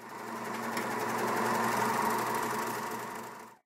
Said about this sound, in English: we're going to be sewing this at 5/8 inch on a serger